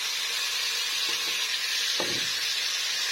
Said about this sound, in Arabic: تحمر البصلة كده تدي لون ذهبي